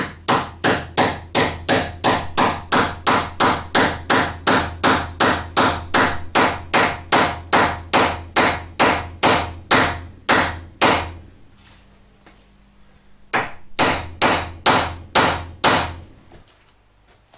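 Steady metal hammer blows drive a tapping tool into place in a toolmaking workshop, about two dozen sharp strikes in a fast, even rhythm, a brief pause, then another short run of blows, close and loud.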